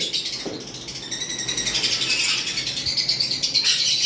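Caged lovebirds in a bird shop chirp and chatter continuously, a loud, dense flock of high tweets close by with no voices.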